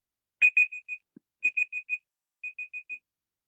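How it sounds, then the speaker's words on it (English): An alarm going off in three bursts of four rapid high electronic beeps each, evenly spaced and close, with silence between the groups. "That's my alarm telling me to hurry up."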